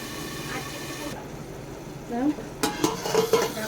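A lid is set over fish in a cooking pan of greens, producing clinking metal knocks and clatter near the end over a low background sizzle, while someone talks.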